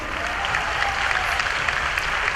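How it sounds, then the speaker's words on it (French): An audience applauds steadily and close by after a fight in the Injustice: Gods Among Us game at a live show, with dense clapping and no talk over it. "Mesdames, messieurs, on applaudit force de sexe."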